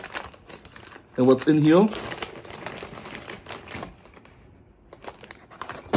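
A KFC paper bag from KFC Germany is opened and rummaged through, with crinkling paper rustles running under a voice, which includes a brief spoken question.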